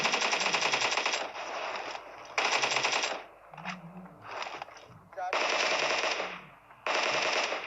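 Sustained automatic gunfire from a PUBG-style battle royale shooter comes in long loud bursts separated by short gaps, with quieter single shots and some speech in between.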